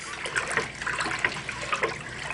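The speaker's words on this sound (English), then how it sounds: "We're going to pour the liquid off." Salt beef pickling liquid being poured off homemade Jamaican pickled meat, a short close trickling and splashing pour with uneven gushes.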